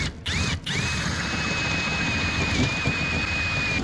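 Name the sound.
power drill enlarging a hole in metal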